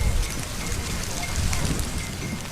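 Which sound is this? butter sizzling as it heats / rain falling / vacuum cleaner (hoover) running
rain falling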